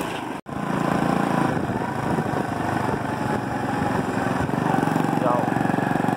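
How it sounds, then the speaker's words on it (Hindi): A motorbike engine on a Karachi street catches after a brief break, then settles into a loud, steady, buzzing idle that runs without pause. "बाइक स्टार्ट कर लें जल्दी से।"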